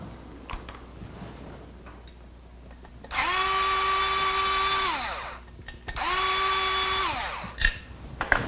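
Power drill spinning up to remove the ventilated clutch cover on a Ducati 851 Superbike, two loud sustained whirring bursts of about two seconds each with rising and falling pitch, close by, separated by a short pause.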